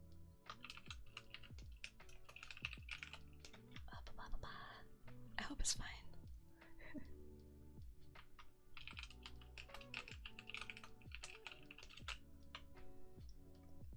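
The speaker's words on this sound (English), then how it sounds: "I'm so sorry if my keyboard is loud." Soft, rapid clicking of a computer keyboard, steady bursts of keystrokes at close range with brief pauses, while a voice whispers quietly over it in an ASMR stream setting.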